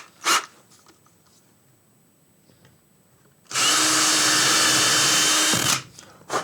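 An electric drill with a loose, wobbly chuck bores a pilot hole into the wooden body of a custom guitar in a luthier's workshop, running loud and steady for about two seconds after a short quiet stretch.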